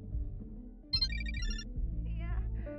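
Telephone ringing inside the horror game Chilla's Art The Karaoke, set in a karaoke room: short repeated electronic ring bursts rise over steady game ambience and low background sound, with a second fainter ring near the end.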